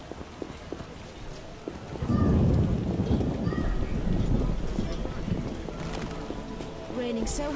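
Heavy rain in The Witcher (PC game) pours steadily with low rumbling underneath, swelling after a quieter start and continuing as a dense, close wash of sound.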